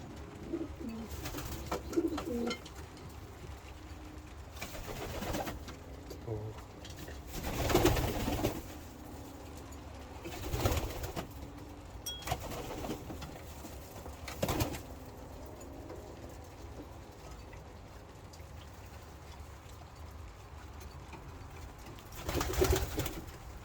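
Breeding pigeons in a loft coo repeatedly, soft low calls at intervals with occasional wing flutters, close and fairly quiet.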